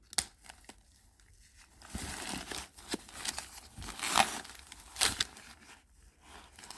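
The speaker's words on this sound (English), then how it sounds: "let's go ahead and cut the strap from the zipper." Scissors snipping and crinkling through a handbag strap to free it from the zipper on a Coach bag, a series of close, soft crunching and tearing bursts with two sharper snips near the end, no talk.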